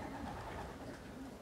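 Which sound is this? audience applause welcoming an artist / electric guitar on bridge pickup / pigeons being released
pigeons being released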